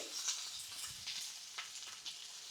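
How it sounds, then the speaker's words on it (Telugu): Garlic, capsicum, onion petals and green chili fry in hot oil for a soya chunk Manchurian. The sizzle is soft, close and continuous, with faint crackles. "ఆయిల్ హీట్ అయిన తర్వాత కట్ చేసి పెట్టుకున్న వెల్లుల్లి రబ్బలు వేసుకోవాలి"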